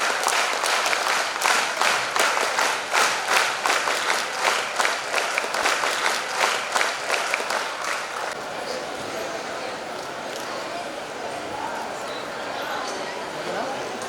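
A crowd at a school annual day honours the chief guest with rhythmic unison NCC claps, then the clapping breaks into looser sustained applause, loud and continuous throughout.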